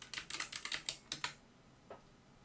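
Typing on a computer keyboard while entering data into an Excel spreadsheet: a quick run of about a dozen close key clicks, then a pause and one faint final tap.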